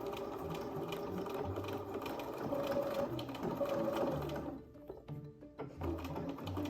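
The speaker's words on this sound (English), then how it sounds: "It's helpful to backstitch a couple times across here." A sewing machine runs steadily while backstitching back and forth across a dress placket, the motor whirring with a quick mechanical needle rhythm before briefly pausing and starting again.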